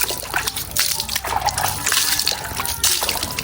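Water sloshing and splashing in a full drum as freshly caught river prawns and crabs are washed by hand, irregular close splashes and trickles in uneven bursts.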